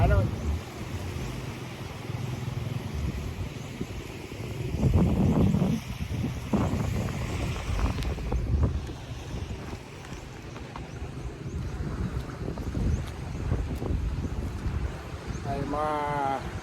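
Steady wind and rolling sea waves at a beach, a broad continuous rush with mic buffeting, under occasional talk.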